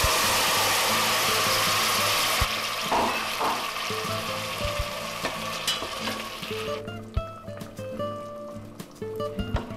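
Onion, garlic and tomatoes fry in a pan, giving a steady loud sizzle with stirring clatter and scraping. The sizzle eases as the tomatoes go in, and a few sharp utensil knocks sound close by.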